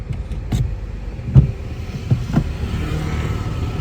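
A car engine idles and rumbles steadily during a beginner's first driving lesson while the driver shifts into second gear, with a few soft mechanical clunks from the gear lever standing out.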